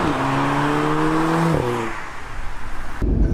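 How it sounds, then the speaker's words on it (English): A facelifted Audi S3 at full throttle, a loud rising engine drone that drops at a gear change, then roars on with road and wind noise before cutting off abruptly. "That was a first sort of full throttle acceleration."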